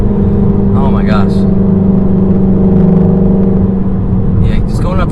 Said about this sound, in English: And without a doubt, this would have the best sounding engine.